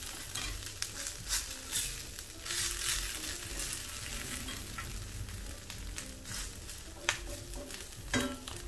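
Potato patties sizzle in a pan for breakfast, a steady close frying crackle with scattered pops and light scraping, no voices.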